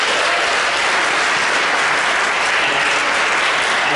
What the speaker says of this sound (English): we should give him a round of applause also.